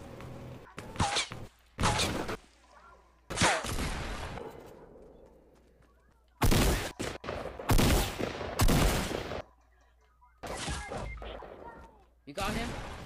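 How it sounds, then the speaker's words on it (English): Bursts of Fortnite gunfire in a duo match crack out in several separated volleys, some close and loud, others shorter, with players talking between and over the shots. "I don't know who's shooting at me."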